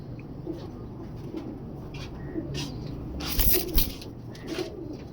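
Imam Din pigeons cooing softly in a loft, repeated low coos spaced through a quiet background with some light shuffling and rustling of feathers.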